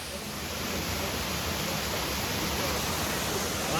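Duragpadu waterfall near Parvathipuram gives off a constant, broadband roar of falling water that stays steady and fairly loud throughout, with no voices.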